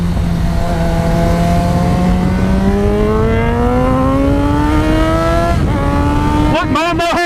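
Yamaha FZ6R motorcycle engine accelerating hard out of a turn, pitch climbing steadily through a gear change made without the clutch, then a second quick shift near the end; loud, close and continuous.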